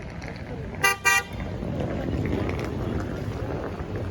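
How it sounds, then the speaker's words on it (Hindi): Busy traffic in the Kedarnath parking area, with two short car-horn toots close by, followed by a steady rumble of engines and wind. "मैं आपको दिखाती हूँ यहाँ पर कितना ट्रैफिक है और कितने लोग हैं जो आए हैं यहाँ पे।"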